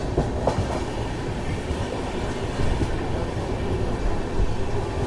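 Coromandel Express from Chennai to Shalimar, heard from inside a general-class coach, with a loud steady rumble and clickety-clack of wheels rolling continuously throughout.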